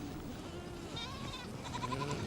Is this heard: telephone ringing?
no